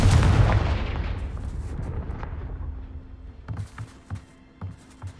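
A Confringo spell blast in the Hogwarts Legacy video game opens with a loud, booming explosion that rumbles and fades over several seconds, then a few softer thuds and pops follow.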